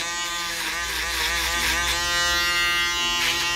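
Electric hair clippers run steadily and loudly in a barbershop while they blend a low fade. The motor buzz stays constant, with slight shifts in tone as the blade moves through the hair.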